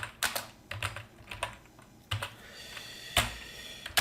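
Keys clack on a computer keyboard in short, uneven bursts of close, crisp taps with brief pauses between them.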